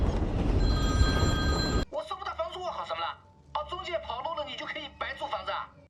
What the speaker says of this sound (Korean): 중국은 월세 독촉 전화로 실패.